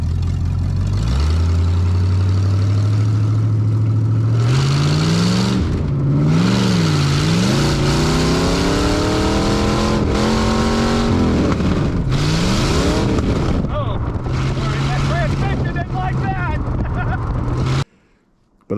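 A Corvette with a swapped-in Cummins diesel engine drives and revs, its loud, close engine note climbing and falling through repeated revs and gear changes before cutting off abruptly at the end.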